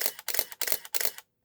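A Canon SLR with a 28-105 lens fires its shutter four times in quick succession during a test of a used camera. Each release is a crisp, close mechanical clack, and the clip ends in silence.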